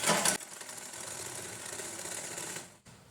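A sewing machine runs a steady continuous stitch along a lined blouse, close and moderately quiet, with a brief louder burst at the start and a short pause near the end.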